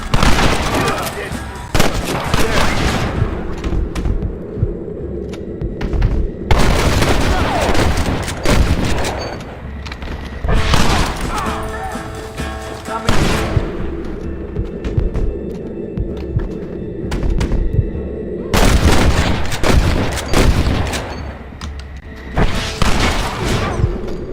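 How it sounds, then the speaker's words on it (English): Repeated bursts of gunfire from the video game Red Dead Redemption on PC, loud volleys and booming shots in several long clusters with short lulls between them, under a dense, continuous battle din. "Shoot them!"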